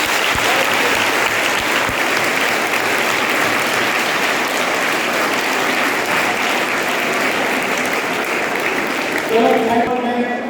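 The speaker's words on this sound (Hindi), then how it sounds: "चलो एक बार समीर के लिए जोरदार तालियां।" Loud, sustained applause from an audience at a meditation lecture, honoring a participant named Sameer; dense clapping fills the whole stretch near and steady, with a voice briefly heard toward the end.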